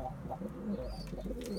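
Pigeons kept in a loft coo softly in low, rolling calls, with faint chirps and a few higher bird notes behind them.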